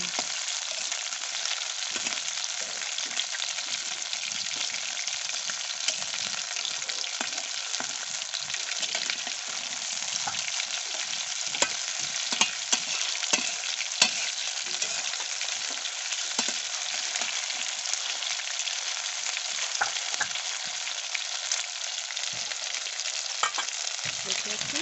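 Continuous crackling sizzle of Bombay duck fish pakoras frying in hot oil, dense and steady throughout with small pops, close by and with no voices.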